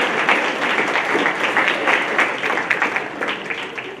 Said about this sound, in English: And you'll get a special applause.